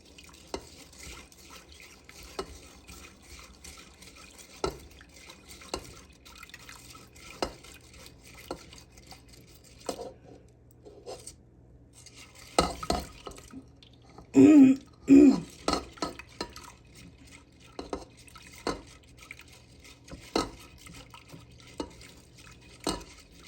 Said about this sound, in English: now I'm going to add my milk a little bit at a time